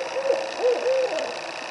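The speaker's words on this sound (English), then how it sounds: "Don't talk over the owl." An owl hoots during mating season, a series of soft, fairly loud hoots and coos in a steady rhythm, heard alone in a quiet outdoor setting.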